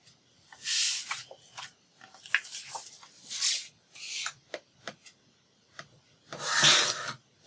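Scissors cut out a paper shape in several short, crisp snipping and rustling bursts, with pauses between them, close and fairly quiet.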